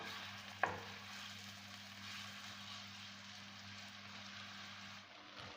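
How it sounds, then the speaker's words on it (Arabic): Chicken pieces frying in a little oil in a pan over medium heat, a faint steady sizzle with a single sharp clink near the start, no talking. "نحط كميه الدجاج تاعي بهذا الشكل يتقلى"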